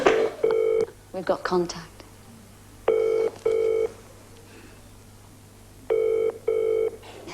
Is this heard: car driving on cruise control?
no